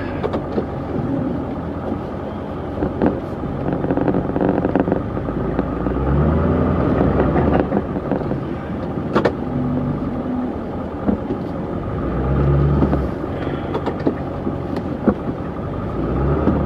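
A snowplow truck makes a multi-point turn in the snow, its engine rumbling steadily at low revs and rising briefly as it shifts back and forth, with occasional knocks and scrapes.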